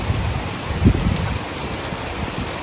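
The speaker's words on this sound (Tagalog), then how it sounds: "Talagang buhos yung ulan." Sudden heavy rain pours down in a steady, dense wash of noise, with a brief louder burst near the start and no voices.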